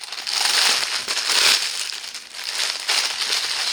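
A plastic bag holding diamond painting beads crinkles and crunches loudly close by, in continuous rustling bursts with brief lulls, and no one speaks.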